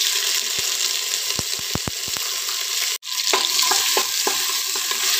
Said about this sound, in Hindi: यहाँ पे हम शिमला मिर्च को भी फ्राई कर लेंगे।